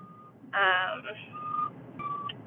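Reversing beeps sound in a construction zone heard from inside a slowly moving car, a few bright electronic tones in short bursts under a voice speaking.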